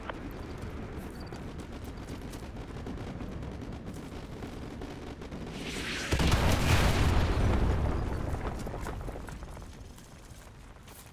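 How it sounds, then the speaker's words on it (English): An artillery strike lands in Call of Duty Modern Warfare 2 Remastered: a low, busy rumble of battle gives way to a sudden loud, booming impact that swells into a roaring blast and slowly fades. "Fire mission received. Artillery inbound. Coordinates confirmed. Firing."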